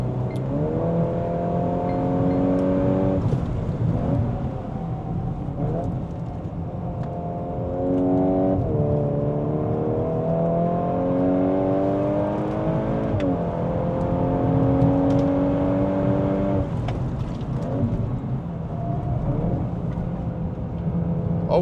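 A VW Golf 8.5 R engine driven hard around a track lap in S plus mode, loud and close from inside, with repeated climbs in revs, quick gearshift dips and steady high-pitched whine, continuous for the whole run without talk.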